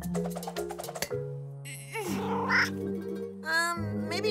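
An animated kitten meows several times over a cartoon music score, with drawn-out, wavering cries standing out above the soundtrack.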